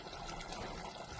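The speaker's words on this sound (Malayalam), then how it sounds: "ഇപ്പോൾ നമ്മൾ രണ്ടാമത്തെ പാലൊഴിച്ച് അതൊക്കെ ഇതിന് നന്നായി പിടിച്ചു കൊടുക്കും." Second extract of coconut milk poured into a simmering beef mappas curry, a soft, steady liquid trickle and splash that stays faint and even throughout, with no talking.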